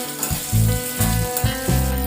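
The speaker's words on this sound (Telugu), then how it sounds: "ఇవి సాఫ్ట్ అయ్యేంత వరకు ఒక 10 మినిట్స్ లో ఫ్లేమ్లో కుక్ చేసుకుందాం" Vegetables for a ridge gourd (berakaya) gravy curry fry in a pan over a flame, sizzling loudly and close up, with the hiss surging in repeated pulses as they are stirred.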